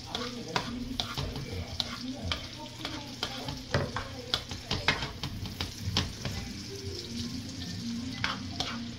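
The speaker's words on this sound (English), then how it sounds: "gonna just throw in these onions first, and just to make them get translucent" Sweet onions sizzle in a pan for a seafood curry, a steady close fry crackling with frequent sharp scrapes and clatters of stirring.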